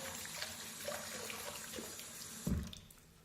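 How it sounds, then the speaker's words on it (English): Tap water runs steadily as soap is rinsed out of a cloth at a sink, a soft continuous splashing stream that ends in a brief louder slosh near the end. "I'm going to rinse off the cloth that we used. So give that a rinse, get all the soap out of it."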